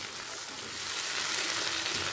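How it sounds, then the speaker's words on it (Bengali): Chopped tomato and onion frying over a high flame for a chicken and egg tarka, giving a steady, close, dense sizzle with no pauses and no voices. "টমেটোটা পেঁয়াজের সাথে 1 মিনিট হাই ফ্লেমে ভেজে নেব।"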